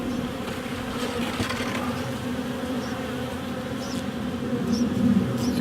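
Bees buzz around a new wooden hive box with a bee trap cone, a steady close droning hum with individual insects passing near now and then, no talking.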